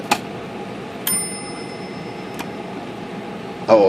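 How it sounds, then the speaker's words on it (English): A bell strikes on an LC Smith & Corona braille writing machine. It gives one bright, ringing ding that decays slowly, with a couple of softer taps and clicks before and after it against a quiet room hiss. "Big bell down here."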